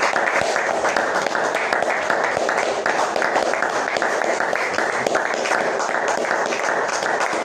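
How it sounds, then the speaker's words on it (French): A church congregation applauds in praise during a revival gathering, a dense, steady wash of clapping that carries evenly from start to finish with faint voices mixed in. "Applaudissons pour le Seigneur Jésus"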